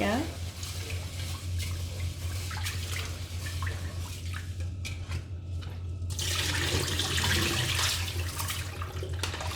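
Rice being rinsed in water for a rice cooker, with sloshing and swirling water as the grains are stirred by hand, a brief drier pause midway, then fuller running-water wash.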